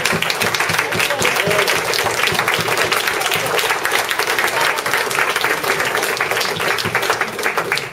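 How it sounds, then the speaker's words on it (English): Club members stand at a past president's award meeting and give a loud, sustained round of applause. The dense clapping fills the whole stretch evenly. "round of applause."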